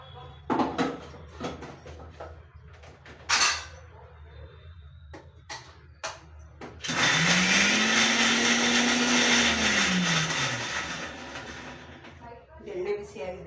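A kitchen mixer grinder runs for several seconds, grinding drumstick leaves for sambar with a loud steady whir that changes pitch as it spins up and down, set among brief clatters and knocks before and after.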